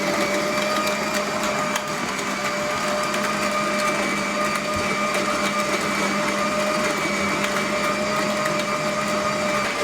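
A grain mill grinds dried corn into meal for corn bread, giving a steady, loud mechanical whir and hum that runs unbroken for the whole stretch with no talk over it.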